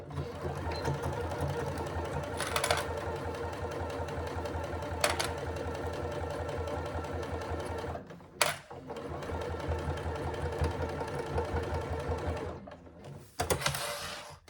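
A domestic sewing machine runs steadily stitching a half-inch seam on a Rossatron handbag, a close, continuous mechanical whir with brief pauses and a few short clicks, no voices over it.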